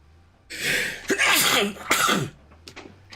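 A single loud, close human sneeze bursts out in two or three sharp explosive pushes over about two seconds, followed by faint rustling, with no talking.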